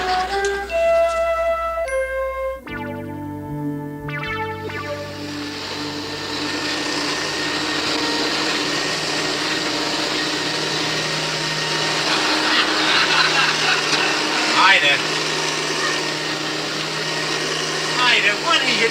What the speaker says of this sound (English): I'm vacuuming the rug.